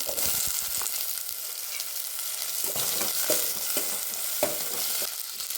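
Spring onion, onion and tomato frying in a pan give a steady close sizzle with intermittent stirring scrapes and clicks throughout.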